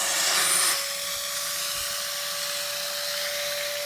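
Car upholstery shampooer running its suction nozzle on a seat, a steady loud whine and rushing airflow; a brief louder burst at the start settles into an even drone with a fixed tonal hum, no talking.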